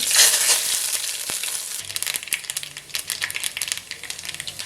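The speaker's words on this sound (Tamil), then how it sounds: "எண்ணெய் நல்லா சூடாச்சு கடுகு சேர்த்துக்கலாம்" Mustard seeds spluttering in hot oil: a soft hiss at first, then a burst of rapid, dense crackling pops close by that keeps up to the end.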